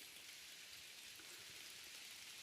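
Steady rain falls through a forest, a dense, even hiss of drops on leaves and ground holding constant from start to finish with no voices.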